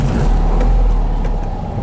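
A 1965 Porsche 356C runs with a steady, loud engine drone close by, rumbling evenly through the moment with no voices over it.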